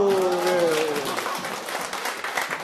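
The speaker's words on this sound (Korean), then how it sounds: "박수, 박수, 박수." Classroom participants clapping together after a group game during a lesson, a dense burst of applause that tapers off, with a voice speaking over the opening moments.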